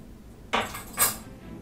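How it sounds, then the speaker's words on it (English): Whole black peppercorns, a tablespoonful, drop into a glass jar of pepper gin infusion in two quick rattling clatters, close and crisp against quiet. "we add 1 tablespoon of whole black peppercorns"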